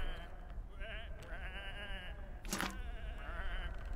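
Sheep bleating in the video game Whateverland, several wavering calls overlapping at moderate distance, with a sharp burst of noise in the middle.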